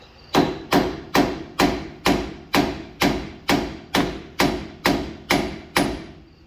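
Twelve heavy metallic hammer blows strike a driveshaft yoke on a 1979 Chevy G20 van in a steady, even rhythm, each loud and ringing briefly before the next strike.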